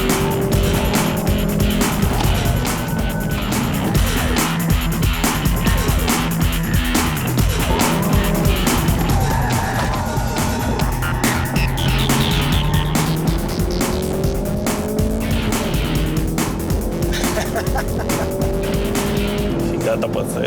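Race car driven fast on a track, its engine roaring loud and continuous with tyre squeal and shifting pitch as it accelerates and brakes, with a voice talking over it.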